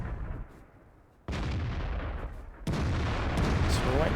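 Tank cannons fire in World of Tanks, two sharp loud booms each followed by a sustained rumbling roar of battle.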